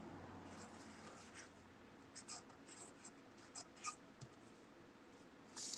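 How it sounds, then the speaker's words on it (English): A pen writes cursive lettering on a Halloween trick-or-treat bag, producing faint, close scratchy strokes in short irregular bursts, with a soft voice now and then underneath. "I'm just going to write it in cursive."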